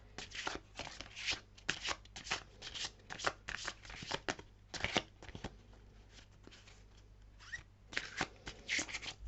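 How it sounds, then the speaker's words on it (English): Oracle cards being shuffled by hand in a series of quick papery riffles and flutters, close and fairly loud, with short pauses between bursts and no voices. "Having trouble with my shuffle"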